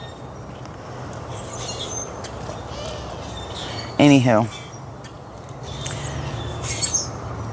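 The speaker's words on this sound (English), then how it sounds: "There's all kinds of birds flying in now." Birds calling outdoors as they fly in: a busy chorus of chirps and tweets sits under steady ambient noise, and one loud, sharp descending call rings out close by, while someone speaks briefly.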